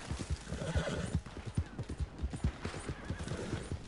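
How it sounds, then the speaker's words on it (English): Horses in the Red Dead Online video game, galloping hooves pounding in a quick steady rhythm with loud whinnying over the top, close and continuous with no talking. "Crazy horses."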